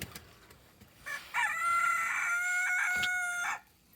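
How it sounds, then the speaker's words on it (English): A rooster crows once, loud and close, a long drawn-out call with a few rising notes. Faint farmyard background sounds come before and after it. "Guess it's time to crow."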